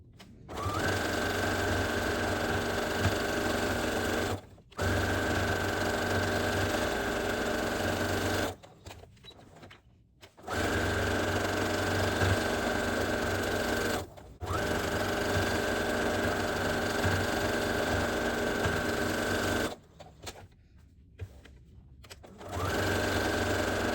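A sewing machine quilts along a seam, its steady rapid whirring running loud and close in long bursts with brief pauses between them, as when the fabric is turned.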